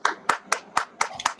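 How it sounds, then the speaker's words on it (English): Audience applause at a talk, heard as about six sharp, evenly spaced claps in a steady rhythm, fairly close and with no voices over them. "let's just give him a round of applause"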